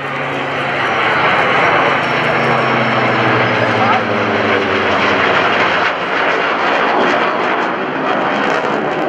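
US Navy Tailhook Legacy flight jets led by an F-18 Hornet make a loud, sustained roaring flyby at an airshow at NAS Oceana, the broadband jet noise rising and falling steadily throughout.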